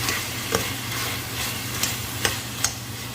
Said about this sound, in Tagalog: Igisa natin 'to